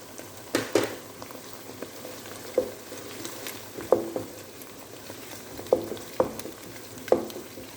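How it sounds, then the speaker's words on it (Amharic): Onion and garlic sauté in a pan, a quiet steady sizzle with soft bubbling and a series of light clicks and taps from stirring spaced every second or so, close and with no speech. "ሽንኩርቱና ነጭ ሽንኩርቱን በደንብ ካቁላላሁት በኋላ አትክልቱን ጨምራለሁ ማለት ነው።"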